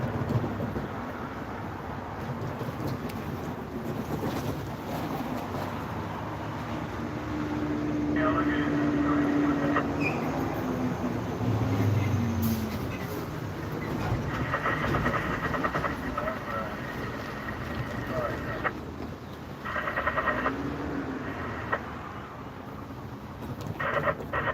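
A Norfolk Southern freight train approaches near Spartanburg, South Carolina, a low rumble that grows with tonal horn-like blasts and distant clatter, while people talk intermittently over it.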